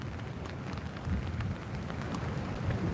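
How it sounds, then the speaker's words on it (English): Steady rainfall outdoors, a dense, even hiss of drops with no pauses, fairly quiet and with no voices. "it's raining"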